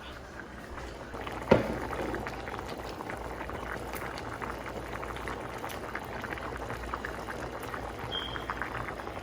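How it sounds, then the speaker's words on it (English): Conch stew simmering in a pot as shrimp are added, with a soft continuous bubbling and hiss throughout and one brief sharp knock or splash early on as the shrimp go in. "we're gonna add in our shrimp."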